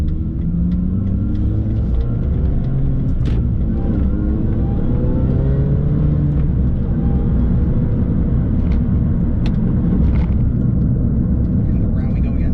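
A 2006 MINI Cooper S JCW GP with its traction control switched off is driven around a track. A continuous, loud engine and road rumble is heard from inside the car, with the pitch rising and falling gently as it laps.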